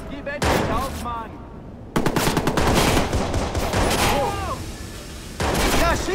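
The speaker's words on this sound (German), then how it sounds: "Da schießt einer! Auf mich wird gerade geschossen! Achtung, Schüsse!" Rapid bursts of automatic gunfire and single shots in the Watch Dogs video game, loud and close, with a dense fusillade filling most of the clip and brief gaps between volleys.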